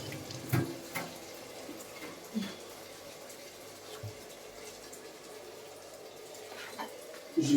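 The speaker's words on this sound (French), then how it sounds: "Maintenant, on doit penser à ajouter de l'eau." Water runs from a tap into a cooking pot on its own, a steady faint hiss with a few soft knocks and splashes, during preparation of pasta with carrot, chorizo and minced meat.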